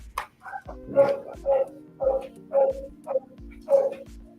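A female pit bull gives a series of six or seven evenly spaced barks and yips, moderately close and clear, with no one talking over them.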